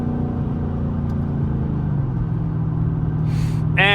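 A Chevrolet Camaro SS engine in manual mode hums in a steady low rumble that shifts pitch partway through, close and continuous, with a short sharp tone near the end.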